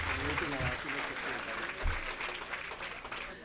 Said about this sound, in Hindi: बहुत ज़ोरदार तालियां होनी चाहिए।